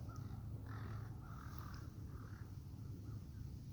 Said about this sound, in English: sorry, I was distracted by the crows.